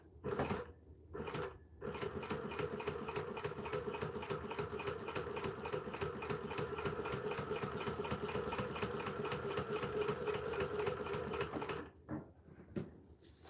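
A new sewing machine runs a long top stitching seam with a rapid, steady mechanical chatter close by, starting and stopping briefly at the beginning and end.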